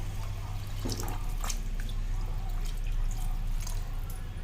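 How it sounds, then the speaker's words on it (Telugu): Water splashing and trickling into a metal pressure cooker, close by, over a steady low hum, with irregular drips and splashes. "ఇప్పుడు ఐదు గ్లాసులు వాటర్ పోసుకుంటున్నాను"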